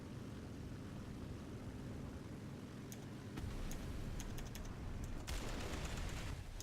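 In the War Thunder video game, aircraft .50 cal machine guns fire in short bursts over a constant engine drone, the firing growing denser and louder toward the end.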